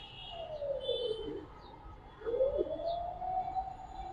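Giribaz pigeons coo close by, two drawn-out, gently rising and falling coos separated by a short pause, soft against a quiet background.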